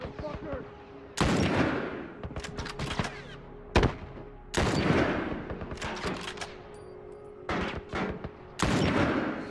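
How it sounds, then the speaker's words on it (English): Bursts of gunfire ring out at hunters in The Last of Us, loud rapid volleys broken by short pauses, with single sharp shots between the longer salvos and a steady low hum underneath. "So just keep firing, making sure to kill these hunters here."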